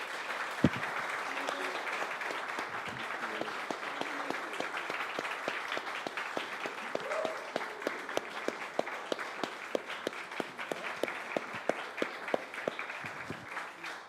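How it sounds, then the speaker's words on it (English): Sustained audience applause at an honorary award presentation, dense steady clapping with sharper individual claps standing out, filling the whole stretch at moderate loudness with no speech over it. "Big round of applause."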